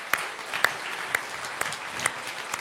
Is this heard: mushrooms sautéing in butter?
no